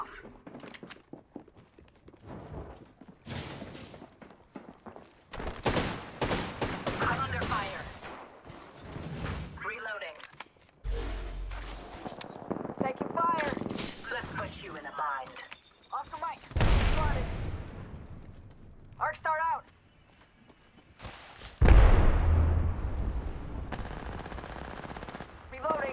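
Automatic gunfire in a battle royale video game rattles in repeated bursts of rapid shots, some close and loud, some farther off, with footsteps, heavy thumps and people talking throughout.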